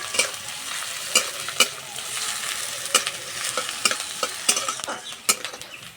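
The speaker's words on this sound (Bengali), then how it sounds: "পেঁয়াজের গায়ে যতক্ষণ আঁচ না লাগছে ততক্ষণ এইভাবে ভাজতে থাকবো।" Lengthwise-sliced onions fry in a pan with a steady hiss while a spatula stirs them, its scraping strokes landing in an irregular rhythm, close and alone.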